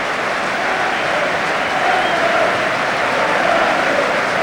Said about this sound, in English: They're applauding the supporters